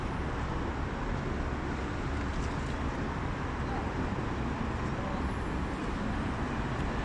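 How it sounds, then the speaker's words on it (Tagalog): Evening street traffic flowing past the front of a shop, a steady broadband roar of passing vehicles at moderate distance with no distinct individual passes, faint and continuous throughout. "Yan po ang daloy ng trapiko."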